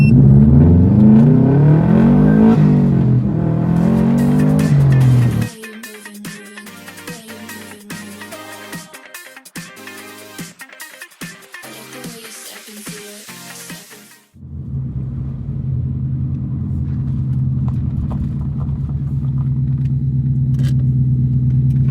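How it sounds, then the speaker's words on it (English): A Subaru WRX STI Type RA rally replica's engine revs loudly at first and then drops. It is followed by rattling mechanical clatter, then a steady low idle rumble, all close by, with no talking. "this is my version 2 WRX STI RA"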